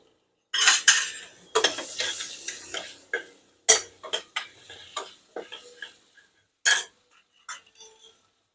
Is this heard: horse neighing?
no